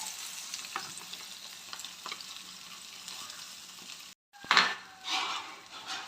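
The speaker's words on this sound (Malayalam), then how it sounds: "ഇതിലേക്ക് അരിഞ്ഞു വെച്ചിരിക്കുന്ന തേങ്ങ കൊടുക്കാം" Coconut and dried red chillies fry in a pan for a beef curry, giving a soft continuous sizzle with stirring scrapes. After a short silent break, louder utensil clatter and stirring follow.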